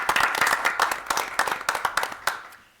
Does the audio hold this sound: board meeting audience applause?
yes